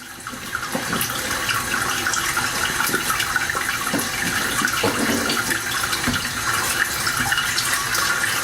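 Water runs steadily through a sieve, rinsing brewing grains in a home kitchen, a continuous close splashing rush with no talk.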